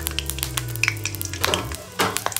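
Brinjal frying in oil in a pan, a quiet sizzle and crackle with scattered light clinks and a scrape of the pan near the end.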